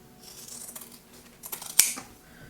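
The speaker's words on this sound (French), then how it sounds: "je coupe l'excédent de tissu." Scissors trim excess fabric after a finished seam, with a few soft snips and one sharper close cut near the end, quiet and without talk.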